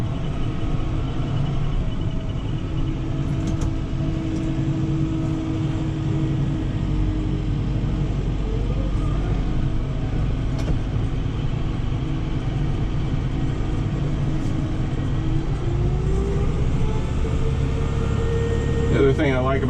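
A Kubota M7060 tractor with a grapple, its engine running as a steady low diesel rumble from the cab, under someone talking throughout.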